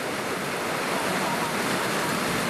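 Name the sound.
vehicles splashing through flood water during rainstorm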